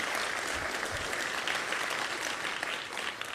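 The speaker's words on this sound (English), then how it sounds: "let's give a round of applause for all the people in." Audience applauding summit volunteers at a Romanian community summit, a steady dense clapping from a sizeable crowd that holds at an even level throughout, with no voices over it.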